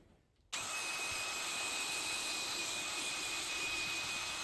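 Power sander working 400-grit abrasive over a scratched motorbike fairing, a steady loud whirring hiss that starts abruptly after a brief quiet moment and holds constant, with a thin high whine running through it.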